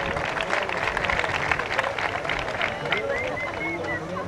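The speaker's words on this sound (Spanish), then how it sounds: "Prácticamente el aplauso para Susana García Cereceda" Crowd applause for Susana García Cereceda in an equestrian arena, a continuous blend of clapping and murmur at moderate distance, with an announcer speaking over it.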